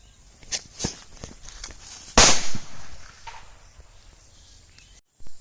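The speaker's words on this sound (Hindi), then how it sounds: "तो दोस्तों यह बिजली बम है, अब इसकी टेस्टिंग करेंगे कैसा बजता है।" A bijli bomb firecracker goes off in a single sharp, loud crack during a firecracker test, preceded by a few light scuffs and clicks and followed by fading rustles, with no talking.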